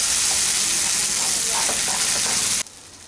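Coconut paste is stirred in hot oil for gathi kochu bata, giving a loud, close, even sizzle with faint stirring that stops abruptly near the end.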